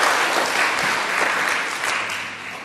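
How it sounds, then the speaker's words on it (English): A conference audience at an international peace event at UNESCO in Paris applauds the moderator and speakers, producing a dense, steady wash of clapping that fills the room and fades slightly toward the end. "let's give you one round of applause to our moderator and speakers."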